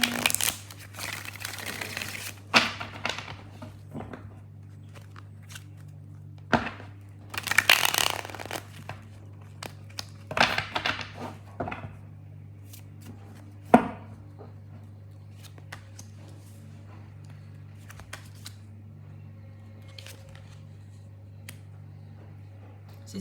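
Tarot cards are shuffled in repeated bursts of riffling and slapping, loud and close over a steady low hum, with quieter card handling in between.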